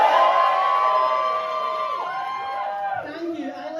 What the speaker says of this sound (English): give a cheer if you're a fan of Soup